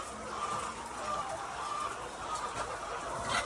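Poultry farm chickens clucking in a steady, busy chorus over a constant background hum, with no one speaking.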